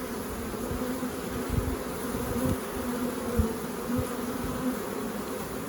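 A dense, steady buzzing of a bee swarm in a back yard fills the air continuously, close by, with occasional louder individual buzzes passing near.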